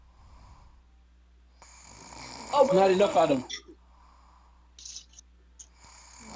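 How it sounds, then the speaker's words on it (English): A man snoring loudly, one long rasping snore swelling to a peak and fading, with faint breathing before and after and brief talk nearby. "Bro, I swear this man snoring up a storm."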